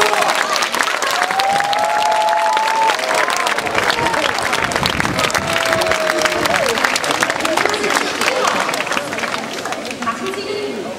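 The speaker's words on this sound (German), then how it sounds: "Applaus für Reinhard Messner." Studio audience at a German TV garden show's ice stock shooting event applauding loudly and steadily, dense clapping with some cheering throughout, fading slightly toward the end while a presenter's voice rises over it.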